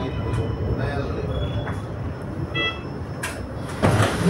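Milan metro train at Cascina Gobba station, a steady rumble of a train running or idling close by with clanks and brief hisses, a louder surge near the end, under faint platform background.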